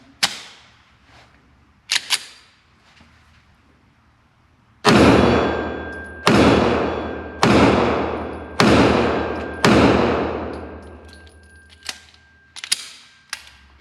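FN 503 compact 9mm pistol fired on a range: a few quieter distant reports, then a string of six loud, close, sharp shots spaced about a second and a half apart, followed by fainter shots in the distance.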